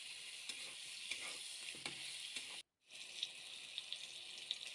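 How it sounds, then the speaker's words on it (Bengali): Eggplant (brinjal) pieces seasoned with salt and turmeric fry in a pan, giving a steady crackling sizzle with small pops, briefly cut by a short silent gap before the frying resumes. "ভেজে নেব বেগুনগুলো।"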